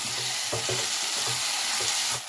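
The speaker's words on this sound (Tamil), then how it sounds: "இப்போ மிளகாத்தூள் போட்டுக்கலாம். மஞ்சாத்தூள், தனியாத்தூள் நல்லா மிக்ஸ் பண்ணிக்கலாம்." Chili powder, turmeric and coriander powder are stirred into a Bombay duck gravy frying in a pan. A steady, loud sizzle runs throughout, with several short scraping stir strokes close up and no talk.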